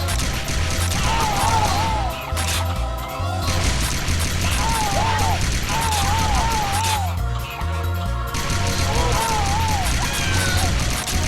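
Gunfire in the CarnEvil arcade shooter, repeated loud blasts and crashing impacts over a constant game soundtrack with warbling effects, mixed with in-game voices.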